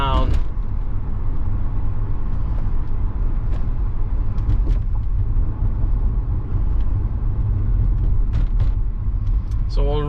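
A 2006 Chrysler Crossfire Limited engine hums steadily from inside the car as it drives at about half throttle, with a low road rumble and someone talking over it.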